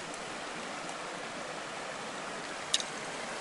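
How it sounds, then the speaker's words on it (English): Small creek flowing beside a road, a soft steady trickle and wash of water heard alone at low level, with one brief click partway through. "There's a little creek here"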